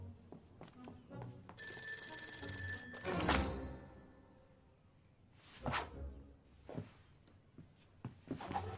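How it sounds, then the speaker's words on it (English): A telephone bell rings in a bright, sustained burst amid household clatter and whooshing movement, with low background sounds around it. "Oh, the phone."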